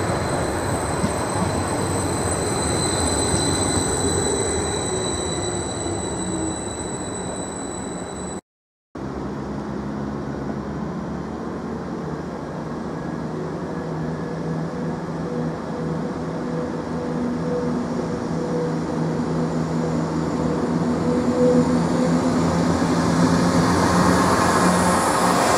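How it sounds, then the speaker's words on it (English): Diesel unit M55419, heading for Norwich, rolls into platform 2 at Ely station. A continuous rumble of wheels on rail comes with high squealing, growing louder toward the end, with a momentary dropout partway through. "M55419 is now coming to platform 2, heading back to Norwich."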